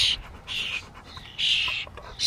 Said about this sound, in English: The birds are eating your treats.